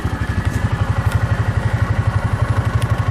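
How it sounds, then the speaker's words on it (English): The small engine of a Cub Cadet Challenger 750 idles at about 1500 rpm with a fast, steady chugging pulse, close and loud, running evenly without changing speed. "It's idling 1500 or so, which is what they recommend."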